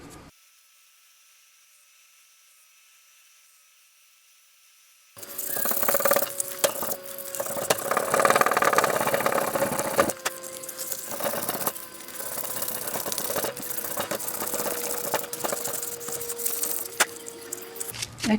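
A power sander working on a replacement wooden hammer handle starts after a few seconds of near silence, then runs as a steady close whirring hiss with scratchy texture that shifts as it bears on the wood.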